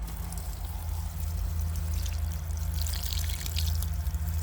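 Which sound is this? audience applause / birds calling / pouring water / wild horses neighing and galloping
pouring water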